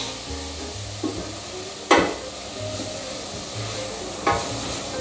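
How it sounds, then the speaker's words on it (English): A tablespoon of butter sizzles in a risotto pan, a continuous close frying hiss under low hum, with a couple of sharp spoon knocks and scrapes against the pan. "So a tablespoon of butter going in."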